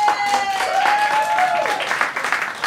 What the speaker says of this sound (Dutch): Maar verwarmen met een warm applaus